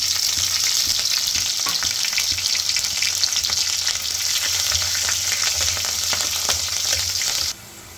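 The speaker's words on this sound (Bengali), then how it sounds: "কালো জিরে ফোড়ন দিলাম।" Nigella seeds and slit green chillies sizzle loudly in hot mustard oil for a Bengali hilsa fish curry, a steady dense crackle with light stirring, cutting off abruptly near the end.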